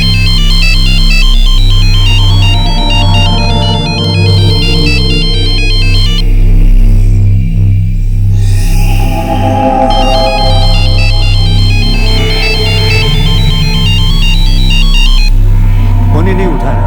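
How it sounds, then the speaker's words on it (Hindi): Electronic phone ringtone with a repeating beeping pattern, loud and continuous for a long stretch without being answered, over a low droning hum and background music. "फोन ही नहीं उठा रहा"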